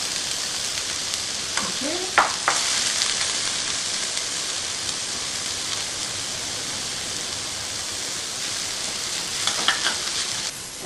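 Onions with ginger garlic paste fry and get stirred in a pan for an Indian egg keema, a steady sizzle with a few scraping stirs early and near the end, and one brief word spoken.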